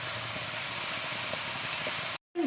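Ginger garlic paste sizzles and hisses steadily in oil at close range, then cuts off abruptly before a brief clink.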